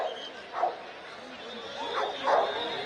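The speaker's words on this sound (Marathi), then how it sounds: "जेवढ्या वेळा सांगितलं तेवढ्या वेळा भुंकून दाखवतोय." A Parbhani police dog squad dog barks on command during a demonstration, giving a few short, moderately loud barks spaced across a couple of seconds over faint background murmur.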